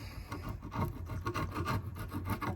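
Old sealant is scraped off a wooden teak deck hatch with quick repeated rasping strokes, close and fairly quiet, a continuous rough rubbing texture.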